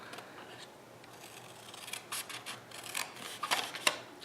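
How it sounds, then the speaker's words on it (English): Scissors snipping straight along the score lines of a cardstock octagon twist-close box, a few short crisp cuts that are soft at first and sharpen toward the end, close by with no talking. "we're going to cut up each of these score lines just to the first horizontal"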